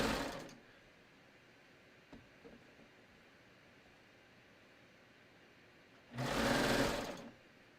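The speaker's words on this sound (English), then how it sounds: "basically I'm just stretching the knit strip as I sew around the hem of the sleeve." A sewing machine stitches a stretched knit strip onto a sleeve hem in two bursts, a short whir at the start and a louder, longer run near the end, with quiet handling sounds between.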